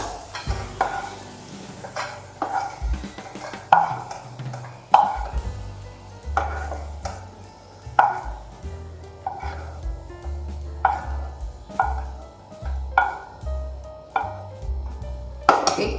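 Cashew nuts frying in ghee get stirred around a pan, with repeated scraping strokes and soft sizzling at a steady rhythm, close and moderately loud, no voices.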